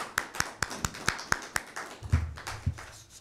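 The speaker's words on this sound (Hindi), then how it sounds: "आपकी भरपूर तालियों में जनाब जवेद जोश" A handful of sharp claps ring out at a steady pace at a mushaira poetry gathering, then taper into a few scattered, softer claps over a low background murmur.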